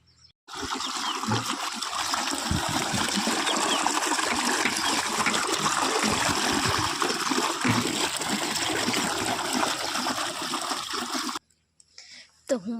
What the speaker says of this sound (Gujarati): પાણી ચાલુ થઈ ગયું છે હવે પાણી ભરી લઉં